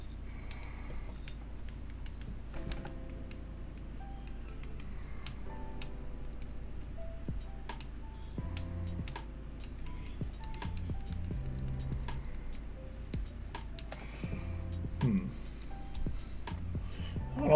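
Rapid clacky keystrokes on a freshly built mechanical keyboard with a rattly, pingy sound, uneven bursts of typing close up, with someone talking quietly at times.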